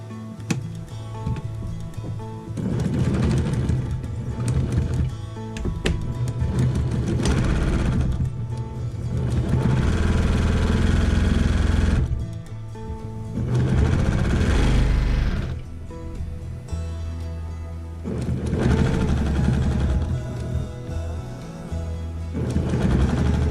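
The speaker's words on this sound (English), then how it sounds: "Well, sewed all that and I've run out of bobbin." A sewing machine stitches a quilt in several loud, steady runs of rapid mechanical whirring, each lasting a few seconds, separated by brief quieter pauses, with no voices.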